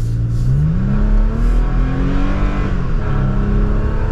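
A 2023 Toyota Tacoma TRD Pro with TRD exhaust accelerates, its engine note rising in pitch through a gear change and climbing again, loud and close with a deep rumbling exhaust tone.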